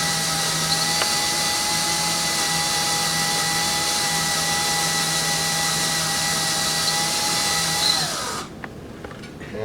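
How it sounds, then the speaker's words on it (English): A power drill whines steadily as it bores into a broken bolt lubricated with cutting fluid, running fairly slow for several seconds at constant pitch before spinning down and stopping near the end. "If the drill bit's sharp, you should start seeing some shavings come out."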